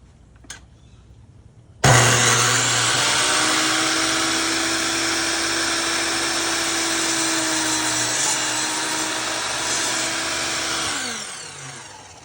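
A saw cuts through a wood board for a tabletop plant stand. After a quiet start and a click, the motor kicks in loudly and whines steadily through the cut for about ten seconds, then spins down.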